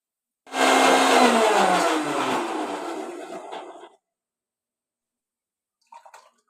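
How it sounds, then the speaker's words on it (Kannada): An electric mixer grinder blends cucumber juice in one loud, close, whirring burst of about three and a half seconds. It cuts off sharply into silence, followed by a faint, brief clink. "ಅಷ್ಟಿಗೆ ಮಿಕ್ಸಿಗೆ ಹಾಕೊಂಡ್ಬಿಡೋಣ"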